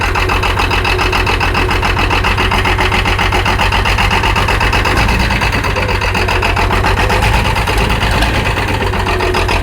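An International Harvester 656 tractor engine, started cold and puffing smoke, runs with a loud, close, steady diesel chug that stays continuous throughout.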